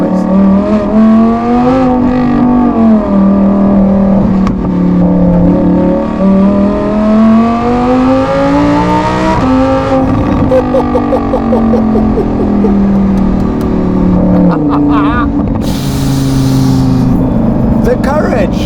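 A Lamborghini Huracan Tecnica fitted with a Novitec exhaust revs hard and loud close by, its engine note climbing and falling through repeated throttle blips, with people talking underneath.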